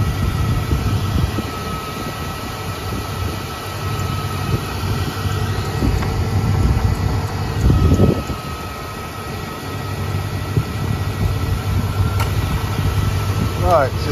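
A car's A/C compressor running steadily with its clutch engaged while refrigerant is added, a continuous engine-bay hum with a faint steady whine, with a brief louder swell midway.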